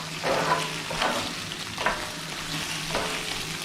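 Eggs fry and brown in a pan with a close, steady sizzle, broken by a few brief scraping stirs at irregular intervals.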